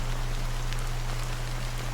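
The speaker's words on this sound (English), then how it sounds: "how long has this rain been going on for?" Rain falls steadily in the video game Honkai: Star Rail as a loud, even hiss over a low hum, unbroken from start to finish, with no voices.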